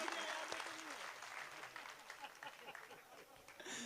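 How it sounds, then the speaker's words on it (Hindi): Enthusiastic applause and cheering from a live audience at a Hindi comedy poetry show, clapping mixed with scattered voices and laughter. "एक बार जोरदार तालियां"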